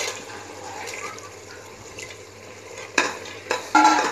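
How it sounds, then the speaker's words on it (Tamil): Green peas sauté in a pan with salt, a continuous soft sizzle under gentle stirring that builds into louder scraping strokes of the spoon against the pan toward the end. "நீ பட்டாணி போட்டு கொஞ்சம் நேரம் நல்லா வணக்கணும்"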